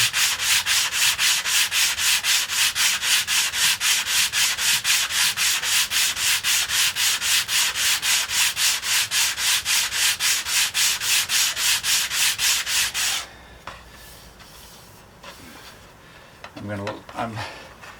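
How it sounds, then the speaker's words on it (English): Wooden guitar back braces are sanded in a fast, steady rhythm of loud, close rasping strokes for about thirteen seconds, then the sanding stops and a few lighter scrapes and knocks follow. "now I can sand this because I'm close"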